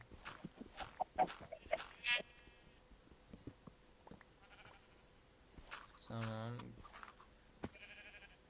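Sheep in the video game Minecraft, in Sky Block mode, bleat several times with a game-like quality, a loud drawn-out bleat standing out midway, while people chatter in the background.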